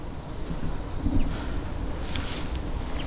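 Headwind gusting across open flat fields between Alford and Willoughby, a steady rushing roar buffeting the microphone, with brief louder surges and no voices.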